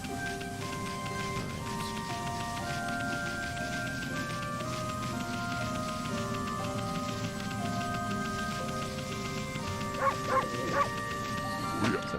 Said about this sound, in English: They're barking a lot.